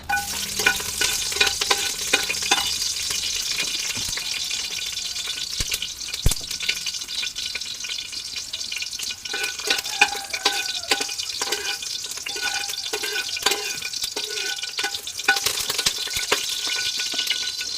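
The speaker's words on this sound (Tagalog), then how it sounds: "Igisa natin yung ating karni." Pork sautéing with ginger in hot oil for a Filipino sinigang, a loud continuous crackling sizzle with frequent stirring scrapes of a utensil in the pan.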